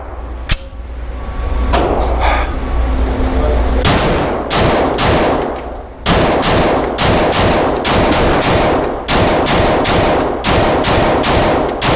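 Walther PDP pistol fired on an outdoor range, a steady string of about a dozen sharp, loud shots at even intervals, each with a short echoing tail, no talking between them.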